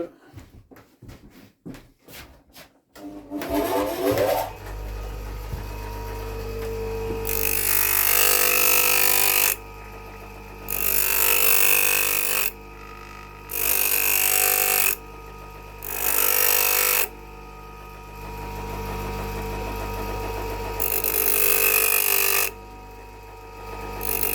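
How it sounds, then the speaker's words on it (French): A small grinding wheel cuts notches into a hardened Laguiole knife blade in a workshop, with several loud bursts of abrasive grinding separated by short pauses over a steady motor hum. Some clicking comes first. "Je vais faire ça sur une petite meule parce que la lame est trempée là."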